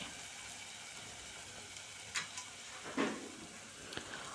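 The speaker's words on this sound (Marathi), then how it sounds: "संपूर्ण पेस्ट आपण तेलामध्ये परतून घ्यायची आहे अशा पद्धतीने" Ground masala paste fries in hot oil for paneer tadka, giving a steady soft sizzle with a few brief louder spits and stirring scrapes, close and fairly quiet.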